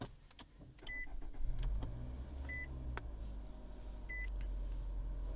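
A 2020 Nissan Altima started with its push button: a few short electronic beeps and a faint click, then the engine cranks and settles into a low, quiet idle heard close inside the cabin.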